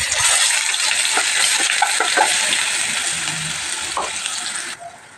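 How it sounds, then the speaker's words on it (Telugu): Onion and garlic paste frying in hot oil with mustard seeds and curry leaves, a steady close sizzle with light stirring taps. "ఈ పేస్ట్ కొంచెం వేగనివ్వాలంటే నూనెలో వేగితే బాగుంటుంది"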